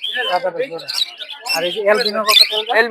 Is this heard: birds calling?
yes